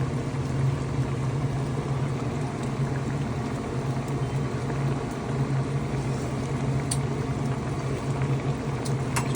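Chicken red adobo with soy sauce and vinegar simmers over low heat in a pan, giving a continuous, dense bubbling and sizzling hiss as the liquid evaporates. No one speaks.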